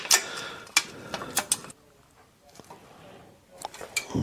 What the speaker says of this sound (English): Get to the bolt with this little Wira ratchet.